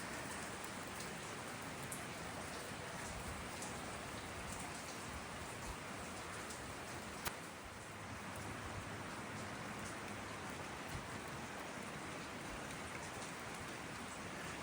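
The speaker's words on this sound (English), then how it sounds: "Rainy morning." Steady rain falls on the pier at Waterfront Park in Orange Beach on a morning, a dense even hiss of drops on surfaces with no voices.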